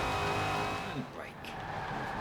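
A Daytona race car in a racing video game brakes hard for a tight corner, a brief rising tire squeal cutting through a steady engine drone while someone talks.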